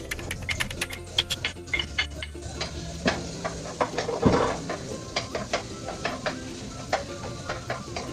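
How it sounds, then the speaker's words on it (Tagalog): Garlic and onion sauté in a pan with frequent scraping and stirring clicks over a steady sizzle, the ingredients for a seafood paella. "Golden brown ang ating sibuyas at garlic."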